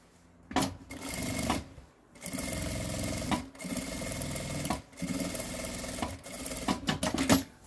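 A sewing machine stitches a strap on a small children's bag, running in steady buzzing bursts with brief pauses between runs. The whirring is close and fairly loud, with no talk.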